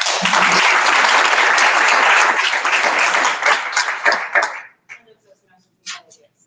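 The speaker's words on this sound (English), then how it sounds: "Jeanette, let's give her a round of applause." Applause at a Toastmasters meeting of young professional entrepreneurs, a close, loud burst of many hands clapping that thins out and stops after about four seconds, followed by a few scattered claps and bits of voice.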